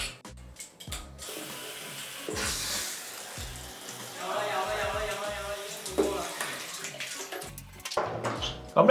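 Water runs steadily from a shower or tap, splashing and hissing at close range, with brief knocks and handling noises around it.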